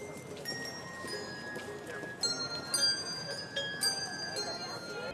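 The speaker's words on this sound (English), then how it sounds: "they have people playing Christmas music with bells, and it's sweet and beautiful" Outside the Detroit Historical Museum at a holiday event, a group plays Christmas music on bells, with clear, ringing tones repeating in a gentle melody over light outdoor crowd noise.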